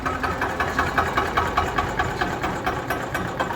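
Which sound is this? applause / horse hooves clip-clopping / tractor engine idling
tractor engine idling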